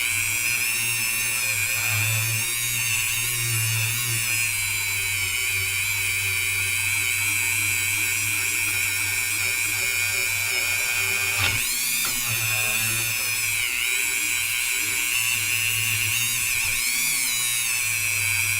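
A power tool whines steadily while mirror polishing a titanium knife. The high, continuous buzz lasts throughout, with a brief dip partway through as the pressure shifts. The tool is close and loud, with no talking.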